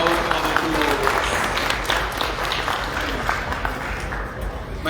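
An audience applauds the First Lady of Sierra Leone at a launch event in Namibia, a dense, continuous burst of clapping mixed with crowd noise.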